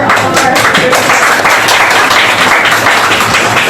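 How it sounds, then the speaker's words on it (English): A seated audience at a panel discussion on migrant garment factory workers in the Mekong region bursts into loud, dense, continuous applause that fills the room without letup. "Can we get another round of applause for all of our speakers?"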